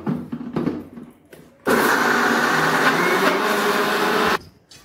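Soaked urad dal being ground into paste in a blender: a steady, loud motor whir running for about three seconds, with short clicks and handling noises before and after.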